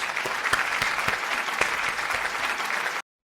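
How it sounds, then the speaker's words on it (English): Applause from a crowd, a round of clapping given for a woman on a livestream, steady and dense for about three seconds before cutting off abruptly. "Give her a round of applause."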